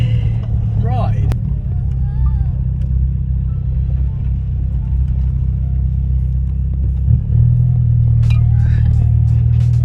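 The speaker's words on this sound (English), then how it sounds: "you've basically got to drive through this farm, and obviously in a lowered car on air ride for a farm" Lowered car on air ride creeping along a rough farm track, with a loud, steady low engine rumble throughout, bumps and knocks over uneven ground, and faint talk underneath.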